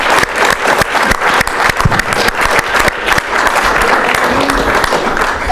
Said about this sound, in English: So please give her and our team a round of applause.